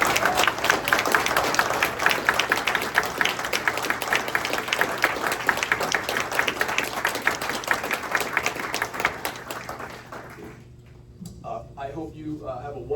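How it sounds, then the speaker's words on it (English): An audience applauds Hall of Fame inductees standing at a school induction ceremony, steady dense clapping filling most of the stretch before fading, then a few voices talk quietly at the end. "tonight's inductees, would you mind standing up to be recognized one more time tonight for a round of applause?"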